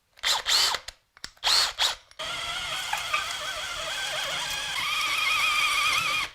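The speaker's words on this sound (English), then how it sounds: "there we go, 2 holes drilled" A power drill boring holes through a floor for radiator pipes: two short revving bursts, then a long steady close whine as the bit grinds through, shifting pitch partway and loud throughout.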